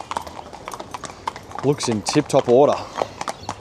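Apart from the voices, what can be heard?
horse hooves clip-clopping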